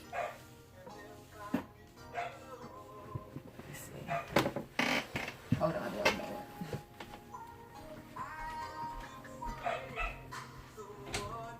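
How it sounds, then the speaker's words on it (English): A dog barks intermittently in the background of a room, several sharp yips and barks scattered across the stretch while someone talks briefly nearby. "my dog is barking in the background"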